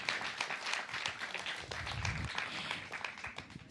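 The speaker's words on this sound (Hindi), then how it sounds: "जोरदार तालियों से स्वागत करें।" Studio audience applauding to welcome yoga guru Swami Ramdev onto a Hindi talk-show stage, a steady wash of clapping that fills the whole stretch at moderate loudness with no talk over it.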